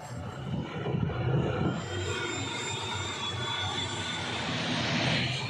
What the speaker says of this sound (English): Now the plane is taking off from Yonphula Airport towards Paro Airport